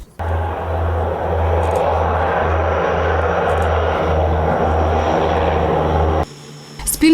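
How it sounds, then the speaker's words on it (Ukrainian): An emergency services ministry airplane drones with a loud, pulsing propeller-engine hum that throbs steadily before cutting off abruptly, followed by brief muffled handling noise. "на вечірньому горизонті з'явився літак МНС"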